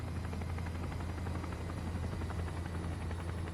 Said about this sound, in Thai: เสียงฮอมาแล้วนะ